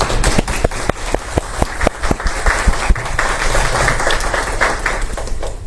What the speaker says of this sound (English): a warm applause for everyone